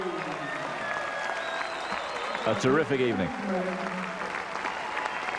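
Audience at a world amateur ballroom standard dance championship applauding steadily, a dense clapping wash with a commentator speaking over it.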